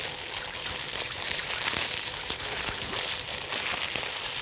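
Plastic sheeting is crumpled and rustled continuously to imitate rain and wind, a dense, steady crackling hiss held close and fairly loud throughout.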